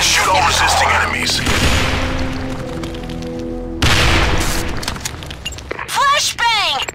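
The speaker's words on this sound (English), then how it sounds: "Flashbang! Flashbang!" A flashbang grenade going off in the online shooter Sudden Attack, a loud sharp blast partway through, followed by a fading ringing tail with game voices and other effects around it.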